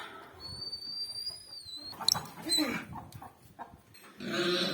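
A farm dog barks in short bursts as goats are led into a barn on a winter day, heard among whistles and animal calls with a voice speaking in between, fairly close and moderately loud.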